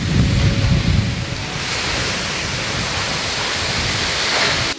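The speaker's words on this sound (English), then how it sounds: "That's the 400-meter waterfall right there." Wli Falls, a tall waterfall in Ghana, pours with a loud, dense, unbroken roar of rushing water close by, with gusty wind buffeting throughout.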